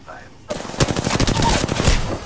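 Rapid automatic gunfire erupts in a shooter video game on a train yard map, a loud close burst of fast shots after a short quiet start.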